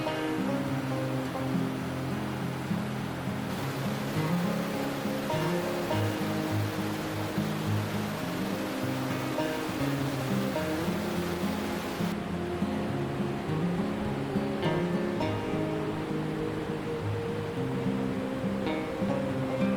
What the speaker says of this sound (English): The melting snow also caused cold, clear streams that flowed everywhere, sometimes along the trail itself.